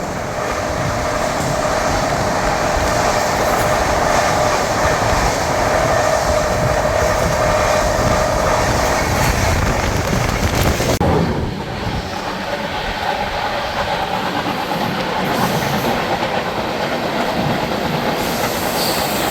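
Rajdhani Express train running at speed while overtaking the Telangana Express near Dabra, a loud continuous rumble and rattle of wheels on rails with a shift in tone partway through, no talking.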